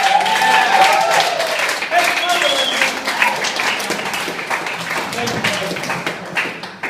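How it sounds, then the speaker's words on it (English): An audience gives a slow hand clap at a live backyard show. The clapping is steady and continuous, with a presenter speaking over it. "A slow hand clap."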